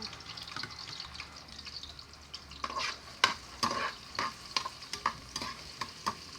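Ginger and garlic stir-fry in a pan, a soft sizzle punctuated by a rapid run of sharp spatula scrapes and taps that grows busier halfway through.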